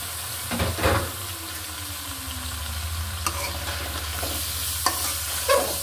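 New potatoes tipped into a pan of boal fish curry with home-grown beans: clattering drops and stirring at first, then a steady low simmer and sizzle with occasional scrapes, close up and without talking.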